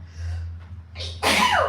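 A single loud sneeze up close, preceded by a short sharp intake of breath, over a low steady hum.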